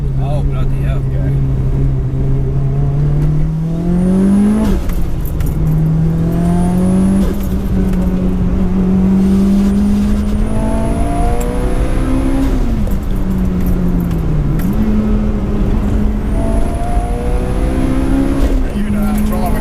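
Inside a 630 bhp Mitsubishi Evolution VI with anti-lag switched on, the engine drones loudly and rises through repeated acceleration pulls, with gear changes and pops between them, while people talk over it.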